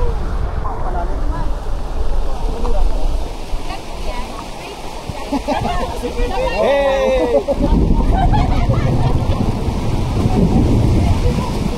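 Heavy rain pours steadily at a lakeside spot, a dense broadband hiss filling the whole stretch, with people talking over it and a brief honking call partway through.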